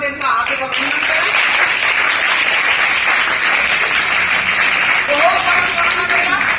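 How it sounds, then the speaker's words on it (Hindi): Sustained applause and clapping welcome guests at a Holi celebration with children from a slum area, a dense, steady ovation filling the space at close range for several seconds with faint voices mixed in. "तालियों की गड़गड़ाहट से इनका हार्दिक अभिनंदन करें"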